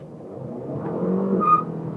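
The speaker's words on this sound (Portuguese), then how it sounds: "Vamos lá, vamos estolar aqui o carro e saindo." A 2022 Mercedes-Benz CLA 250 launches with ESP switched off, its engine note building into a hard, rising acceleration with a brief sharp tyre squeal near the end; no voices.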